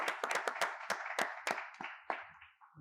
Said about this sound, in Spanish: yo pido un aplauso para ustedes